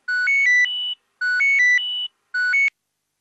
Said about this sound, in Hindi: फोन आया, फोन आया।